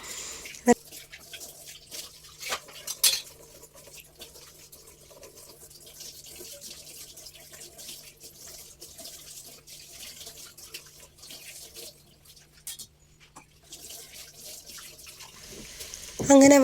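Hot water is poured into a wash basin being cleaned at a village home, heard as faint trickles and splashes with a few clatters, ending in a louder burst of pouring.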